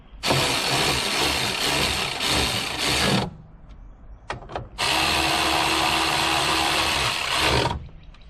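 Power driver running screws into the plastic tail light housing of a 1998 Jeep Cherokee XJ, two loud sustained whirring bursts separated by a short pause with faint clicks.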